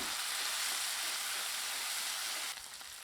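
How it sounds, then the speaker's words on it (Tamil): Steady loud sizzling of chopped tomato frying in a pan, continuous and close, easing off slightly near the end. "இதை சேர்த்து நல்லா வதக்கி விட்டுக்கலாங்க"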